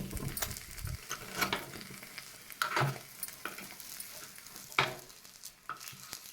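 Sabudana-potato appe are flipped one by one with a spoon in an appe pan with a little oil, giving repeated scraping clicks over a steady close sizzle.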